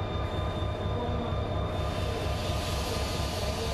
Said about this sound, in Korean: 곧 이어 열차가 출발할 예정입니다.